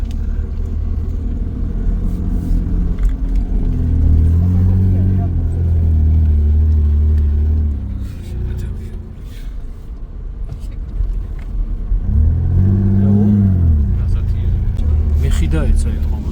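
A stuck car's engine revs hard in two long surges while its tyre spins, the loud rumble falling between bursts and voices talking over it.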